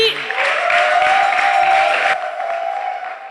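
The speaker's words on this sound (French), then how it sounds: "Merci de faire beaucoup d'applaudissements" A crowd at an outdoor concert claps enthusiastically for a rapper in a dense, steady burst of applause that tapers off after a few seconds.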